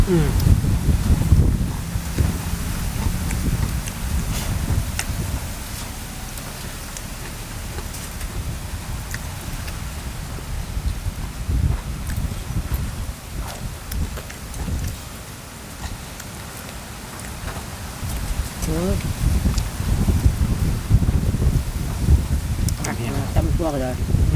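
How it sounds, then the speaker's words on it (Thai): Cold, dry wind blows outdoors in steady rough gusts that buffet the microphone, rising and easing throughout, with voices talking underneath. "ลมแห้งอะไรพี่น้อง"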